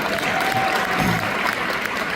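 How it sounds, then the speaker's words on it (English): Audience applause at a live NAD+ supplement training session, a brief, moderately loud burst of crowd clapping. "y'all can clap"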